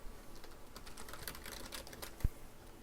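Rapid close typing on a computer keyboard as a title is entered in PowerPoint, with a continuous run of light key clicks and one heavier keystroke near the end, no speech.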